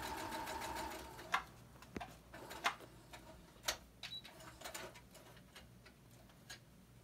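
A sewing machine stitches quilt pieces with a quarter-inch seam, a quiet rhythmic mechanical clatter broken into short runs with brief pauses and clicks between them.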